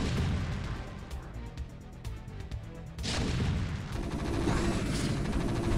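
Siege Tanks and Lurkers clash in StarCraft: Brood War, the tanks in siege mode under Lurker spine attacks: distant booms and crackling impacts roll on steadily, growing louder and denser partway through the battle.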